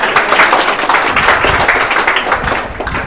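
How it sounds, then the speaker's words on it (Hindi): Classroom of children clapping together, a dense, loud, continuous patter of many hands for a few seconds, close by. "अच्छे से ताली बजाओ सबके लिए।"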